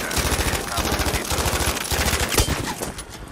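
Rapid machine gun fire from a VGO light machine gun in the video game Battlefield V rattles nonstop in dense, loud bursts, a fast steady stream of shots with no pauses.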